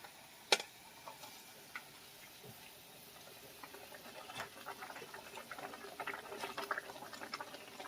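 Curry gravy made with poppy seed paste and yogurt bubbles quietly in a pan with fried rohu fish, faint irregular popping and ticking that grows slightly busier toward the end.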